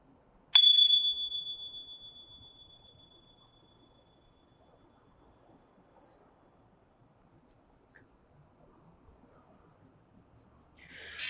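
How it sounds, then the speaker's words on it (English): A single sacred bell struck once, a clear high ringing tone that decays slowly over about three seconds, then near silence follows. "Let go into the feeling of the sacred bells"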